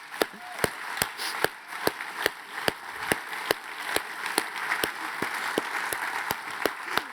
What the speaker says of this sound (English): let's give Lindsay a big round of applause.